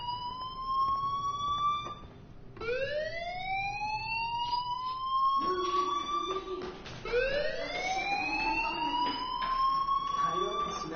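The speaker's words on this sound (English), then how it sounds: "Hey, do you hear that fire alarm?" Fire alarm in Life is Strange, a loud rising whooping siren that repeats several times with a steady wail between, over low background sound and a voice speaking.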